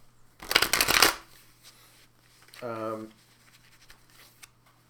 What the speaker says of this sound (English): do a little shuffling